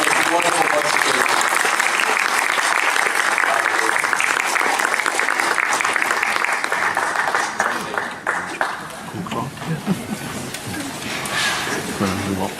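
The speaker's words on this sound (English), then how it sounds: "Round of applause for this wonderful bunch of people." Audience applause after a sci-fi film Q&A panel, loud continuous clapping from a room full of people that thins out after several seconds as voices and a few scattered claps take over.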